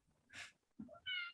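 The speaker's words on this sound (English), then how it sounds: "That's my cat." A house cat meows near the microphone, a short breathy cry followed by a longer rising meow, clear against a quiet room with no one talking.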